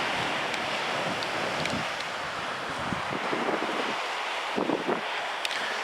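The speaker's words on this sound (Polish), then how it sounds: "Te fale tam są i się pluskają." Steady roar of Baltic Sea waves at Mielno, Poland, mixed with heavy wind buffeting the microphone, with a few faint splashes and no voices.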